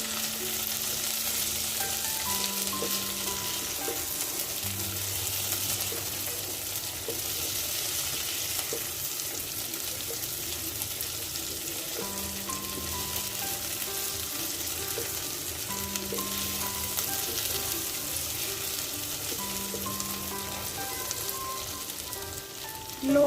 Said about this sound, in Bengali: এবার দিয়ে দিব বরবটি সব কিছু আবারও দুই তিন মিনিটের মতো ভাজি করে নেব